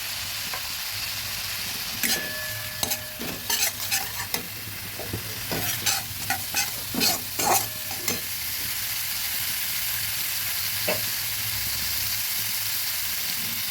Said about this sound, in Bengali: ভালোভাবে মিশিয়ে দিচ্ছি। মশলাগুলো ভালোভাবে ভেজে নেব।